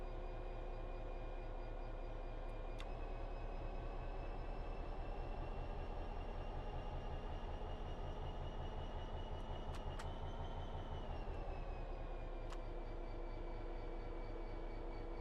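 A long freight train on the Cargo Line in the Train Sim World video game gives a loud, steady low rumble with sustained mechanical tones and a few brief clicks as it waits and begins to move. No one speaks.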